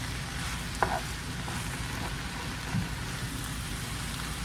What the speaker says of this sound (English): Oh, I love fried cabbage.